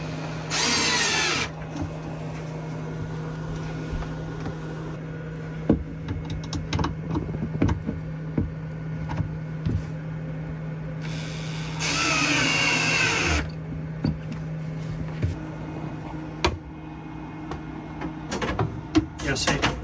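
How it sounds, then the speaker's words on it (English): A power drill whirs in two short bursts drilling holes for RV under-bed storage, near and loud, with a steady hum and scattered clunks and taps between them. "let me drill the two holes in"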